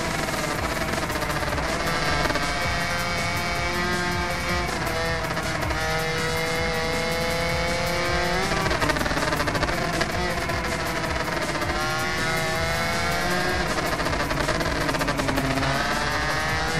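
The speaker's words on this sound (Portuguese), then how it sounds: "O barulhinho da moto, o som do motor, cara, é muito bacana." Yamaha TZR 125 motorcycle engine in the racing game RIDE 2, a continuous loud buzzing two-stroke drone that rises and falls in pitch through gear changes and acceleration for the whole stretch.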